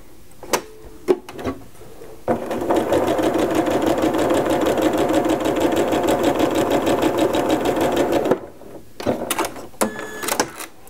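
Sewing machine stitches a quarter inch from a sewn line on a snowball quilt block, running steadily for about six seconds, bracketed by short handling clicks and thumps of fabric and machine.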